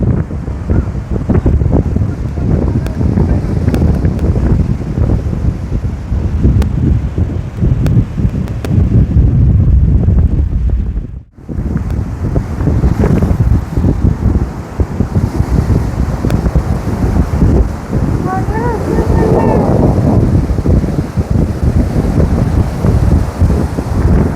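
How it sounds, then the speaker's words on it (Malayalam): Strong wind roaring into the microphone on the seashore at Salalah, Oman, loud and continuous with a brief lull midway, faint surf beneath. "നല്ല കാറ്റുണ്ട്"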